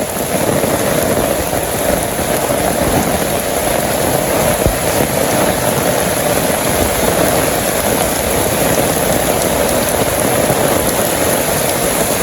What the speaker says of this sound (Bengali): আরে বাবারে বৃষ্টি রে